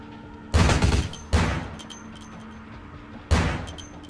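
Gunfire in the video game Vampire The Masquerade: Bloodlines, three loud booming shots, the first two close together and the third after a pause, each with a short decaying tail.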